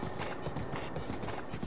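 Horse hooves clip-clopping in a quick, steady rhythm across the ground in Breath of the Wild, close and moderately loud, with a faint snort or whinny and no talking.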